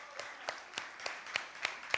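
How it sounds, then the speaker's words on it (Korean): Scattered, quiet claps from a small middle-school summer camp audience at a church worship service, about seven separate hand claps spaced fairly evenly over a couple of seconds, with no voices over them. "박수 한번 주세요."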